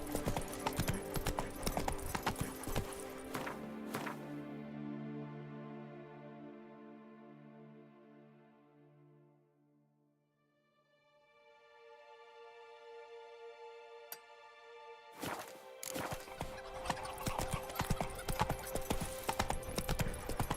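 Hooves of the horse Roach in Witcher 3 clip-clop steadily, then fade into near silence. A pitched tone swells in the gap before the clopping returns, with a faint voice now and then.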